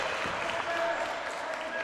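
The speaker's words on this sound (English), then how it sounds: "Sean Wilkins clapping from the Mobaird sideline." Brief clapping rises from the sideline during a girls' high school basketball game, Morristown-Beard against Pope John, a short spatter of applause amid gym crowd noise and a commentator's voice.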